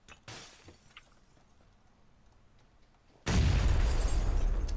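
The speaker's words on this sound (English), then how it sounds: "Wait up, I'm gonna throw in another nade in there." After a quiet stretch of faint shuffling, a thrown grenade in PUBG goes off with a sudden, loud, sustained explosive roar that fills the rest of the moment.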